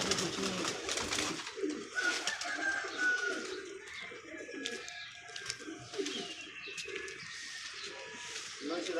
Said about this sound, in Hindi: शहजाद भाई ये मेरे डब वाले कबूतर।